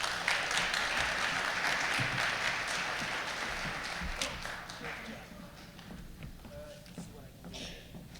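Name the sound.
audience applause for a speaker at an event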